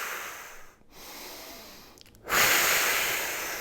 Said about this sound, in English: And I'm just going to breathe deeply now.